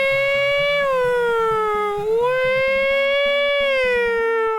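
A voice imitates an upset siren at a football game, a loud sustained wailing tone that slowly dips and rises in pitch over several seconds, with a faint rhythmic pulse underneath.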